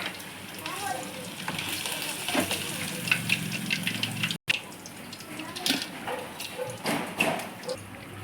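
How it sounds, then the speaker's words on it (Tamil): Fish fries in hot oil in a home kitchen, giving a steady crackling sizzle at moderate level, with a voice talking over it and a brief cut partway through. "எண்ணெய் காய வச்சுருக்கோம். அதில் இந்த மீன் எடுத்து போட்டுடலாம்."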